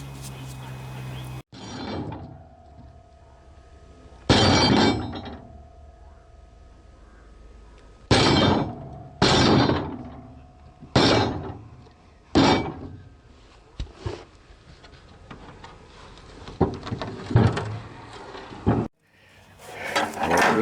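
Rubber hammer knocking a spindle bearing out of a Craftsman riding lawnmower 42-inch cutting deck, heard as a series of loud, sharp separate blows at irregular intervals, close by, with softer handling noises between.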